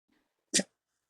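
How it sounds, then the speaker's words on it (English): A dog gives a single short, sharp bark or huff in reaction to sounds from nearby speakers, loud and close, with faint murmuring before it and quiet afterward. "This dog is getting activated."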